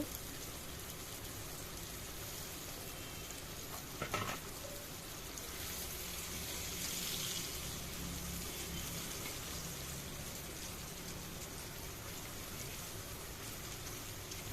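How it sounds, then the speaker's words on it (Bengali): Lentil fritters (bora) frying in oil, a soft continuous sizzle and crackle close by, faint and even, with one brief clatter partway through. "দেখতে পাচ্ছ বড়াগুলো ভাজা হয়ে গেছে।"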